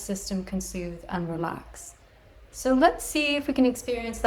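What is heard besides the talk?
None of the usual background noises is heard.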